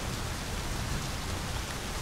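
Steady rain in My Summer Car, a dense, even hiss of downpour with no breaks and no voices.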